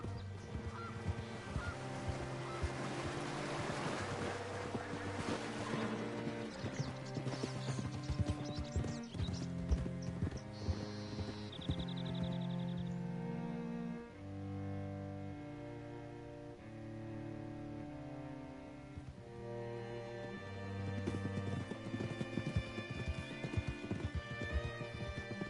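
Horse hooves clip-clopping in the video game Red Dead Redemption II, a steady rhythmic clatter under music and ambient game sounds, with occasional animal calls.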